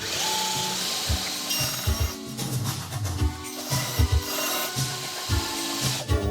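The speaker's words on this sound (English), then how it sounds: "Now I'm going to sand it to that blue line, and then I'm going to put on a smoother belt" A belt sander grinds a knife handle down toward a marked line on a rough belt, a steady abrasive rasp with repeated low thumps and surges as the piece is pressed and shifted, loud and close with no talk.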